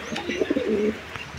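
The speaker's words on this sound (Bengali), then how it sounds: "এটা হচ্ছে একটা মিলি রেসার কবুতর" A single Mili racer pigeon at a pigeon farm gives one short, soft, throaty coo close by, alone, with faint background noise.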